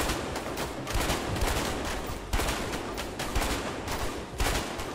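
Dense gunfire erupts in the video game A Way Out, loud bursts and rapid volleys overlapping continuously with sharp repeated cracks throughout.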